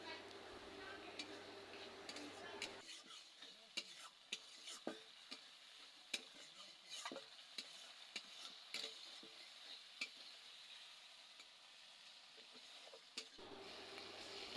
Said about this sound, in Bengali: এখন একসঙ্গে ভালো মতো কষাতে হবে কিছুক্ষণের জন্য